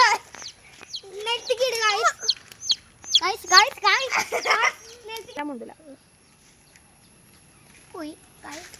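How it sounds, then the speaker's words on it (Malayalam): A baby chick chirps in short, high, rising peeps, mixed in with close voices talking over the first half. A few lone chirps return near the end after a quiet gap. "നമ്മുടെ കോഴിക്കുട്ടിയാണ്."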